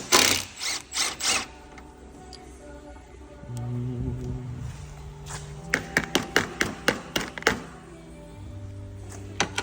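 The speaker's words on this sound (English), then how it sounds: "I need to get the impact in there to undo the crank pulley" Impact wrench on the crank pulley of a Lexus IS200, bursting in short loud hammering rattles at the start and again in a quick series of sharp rattling hits later, with clanking and mechanical noise between.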